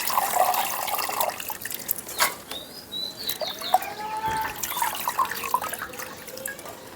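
Red amaranth leaves being rinsed in water, with intermittent drips, splashes and trickling close by, several passes of sloshing and no talking.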